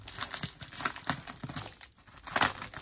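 Plastic packaging on an ephemera pack is pulled open, giving close, fairly quiet crinkling and crackling in short irregular bursts with a brief pause before a final louder crinkle.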